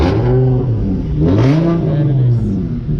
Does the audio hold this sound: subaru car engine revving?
yes